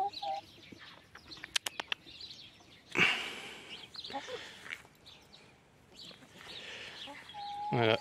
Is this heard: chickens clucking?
yes